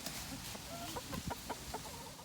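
Hens cluck in a backyard chicken coop in winter, a busy run of short, close clucks and murmurs over steady background noise.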